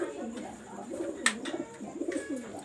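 Pigeons of a caged flock that includes young birds coo in low, rolling, repeated calls, close and steady, with a brief sharp clatter partway through.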